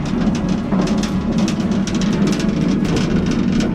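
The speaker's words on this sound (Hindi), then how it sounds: "पानी गिर रहा है ऊपर" Water pours and drips steadily from the roof of a tunnel deep inside a coal mine in Pakistan, a dense continuous splashing that stays loud and close without any talk.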